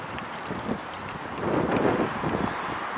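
Steady wind roaring and buffeting a microphone on a lake, with a broad rushing noise that swells a little midway, no voices.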